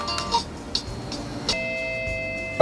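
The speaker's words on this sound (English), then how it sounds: "there's the regular doorbell" Regular chime setting of a CSHope wireless doorbell sounds a clear, sustained tonal ding partway through, after a few faint clicks, ringing on steadily to the end at moderate loudness with no talk.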